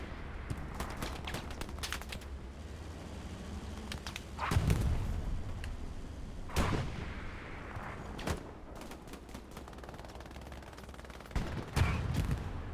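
Explosions from a bombing run in a World War II tank battle video game boom out in several heavy bursts over a dense bed of gunfire and rumbling combat noise.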